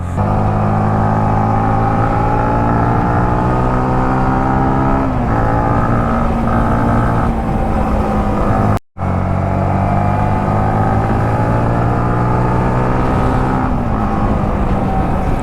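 A Yamaha MT15 BS6 motorcycle engine runs steadily and loudly close up while riding on a road, holding a strong harmonic drone that rises and shifts through gear changes, broken only by one brief dropout near the middle.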